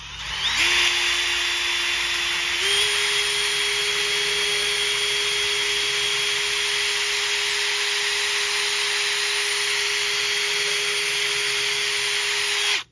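A power drill runs continuously while boring holes into pallet boards, a loud, steady motor whine that holds a constant pitch, stepping up slightly early on and stopping abruptly at the end, with no talking.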